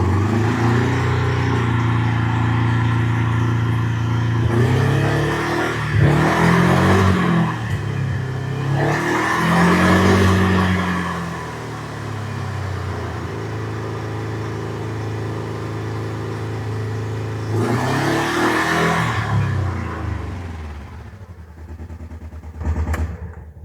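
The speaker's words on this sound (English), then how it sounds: "we'll go ahead and give it a little throttle and make sure we don't have any leaks" A 2020 John Deere Gator XUV 590M engine runs after a fuel filter change and is given throttle in several rising and falling revs over a steady, loud, close idle.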